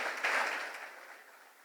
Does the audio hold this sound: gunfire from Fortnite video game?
no